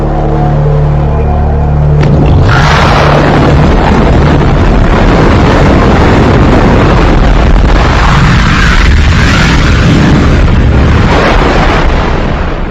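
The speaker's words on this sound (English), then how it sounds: "The universe came into being with the explosion of this point." A huge explosion effect representing the Big Bang bursts in after a brief low hum, then a loud, sustained rumbling roar that rolls on for many seconds.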